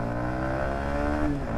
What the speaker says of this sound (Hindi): ये है यामाहा का इंजन, फुल रिफाइंड इंजन